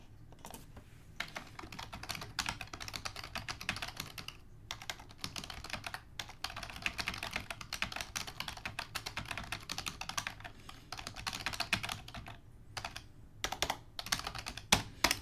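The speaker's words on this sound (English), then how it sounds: "I think he's probably typing to me" Someone types on a computer keyboard in a steady, irregular patter of light key clicks, fairly quiet and close, continuing throughout with no talking.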